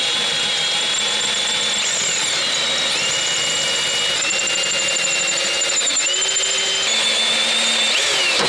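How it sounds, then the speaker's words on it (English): A power tool cuts into the carbon fiber dashboard of a flooded McLaren P1, a steady high-pitched whine that shifts pitch as the blade bites, loud and continuous at close range. "So I am gonna have to cut into this carbon fiber"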